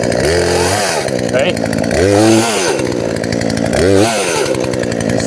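A chainsaw cuts firewood from the underside, revving loudly and close in three repeated bursts with idling between them, while a person speaks briefly over the engine.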